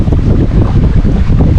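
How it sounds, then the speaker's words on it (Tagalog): Strong wind at sea buffets the microphone in a steady, loud, low roar that fills the whole stretch, with no voices. "Mahangin!"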